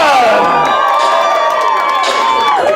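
A large concert crowd screams and cheers continuously, a dense, loud wall of high-pitched shrieks and shouting that holds steady throughout.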